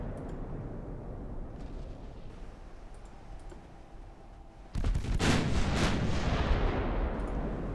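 Naval 4-inch secondary guns fire during a night battle in Ultimate Admiral: Dreadnoughts, low rumbling background turning into a sudden loud, sustained barrage of booms and cracks midway through.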